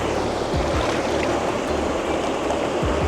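Cold, icy meltwater river rushing through a mountain gorge, a steady broad roar of flowing water filling the scene, loud and close with wind buffeting the microphone and no voices.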